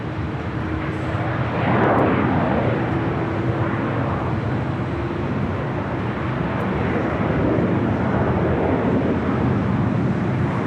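Emirates Airbus A380 taxiing at LAX, turning onto a taxiway toward the Tom Bradley terminal: a steady, broad jet engine rumble with a faint whine, loud and continuous, swelling slightly midway.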